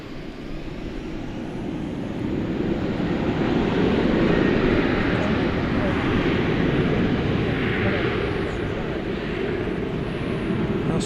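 A Boeing 747-400ER jet at DFW Airport at night gives a broad, steady roar that swells slightly and holds, a continuous engine rumble with no talk over it.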